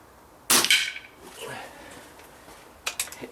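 An air rifle fires an H&N FTT pellet into a block of wood, giving a sharp close crack. A second fainter snap follows near the end of the clip.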